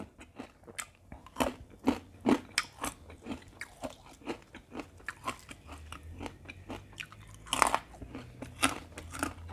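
Crispy herb fish eaten with papaya salad gives close, loud crunches and bites in an uneven rhythm, with softer chewing between them and no talking.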